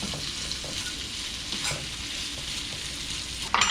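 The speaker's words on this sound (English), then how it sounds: "Kind of just mixing it all around so the potatoes get nice and oily." Potatoes frying in oil in a cast iron skillet, stirred and tossed around, giving a steady close sizzle with scraping stir strokes throughout and a louder burst of sizzling near the end.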